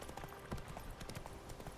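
Horse hooves clip-clop in a steady rhythm as a horse travels the road in The Witcher 3: Wild Hunt, faint and set low under a constant ambient background.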